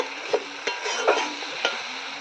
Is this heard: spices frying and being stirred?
yes